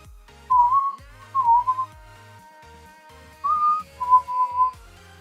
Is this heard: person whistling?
yes